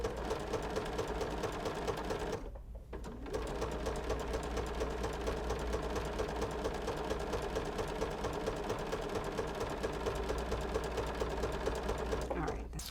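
Sewing machine stitching straight across a cotton swaddle about 1/8 inch from the edge, a steady close whirring run lasting throughout with one brief pause, under a quiet voice.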